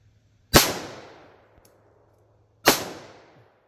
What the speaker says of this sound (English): We're going to shoot at the bottom right target.